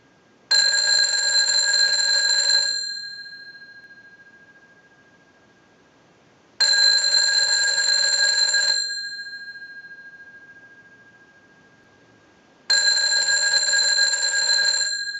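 A Stromberg Carlson 1157 telephone bell rings three times in a slow, even test ring cycle, each ring lasting about two seconds with a fading tail and silence between.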